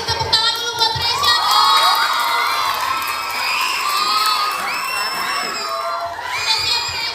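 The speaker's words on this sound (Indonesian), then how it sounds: "kasih tepuk tangan dulu" A crowd of children at a school speech contest applauds, cheering and shouting loudly and continuously, with excited high-pitched whoops rising above the din.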